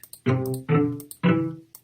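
Three muddy, dense chord stabs of closely stacked low notes, evenly spaced, each blurring into an indistinct murky cluster.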